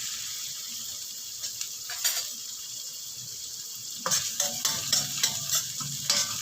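Onions and cubed pork fry in a hot pan for a Filipino batchoy with patola, giving a continuous sizzle broken by bursts of spatula stirring and scraping, louder and busier in the second half.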